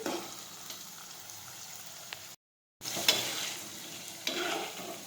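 Vasedi greens sauté in a pan with a steady close sizzle and scraping stirring, broken by a brief silent gap midway before the frying resumes.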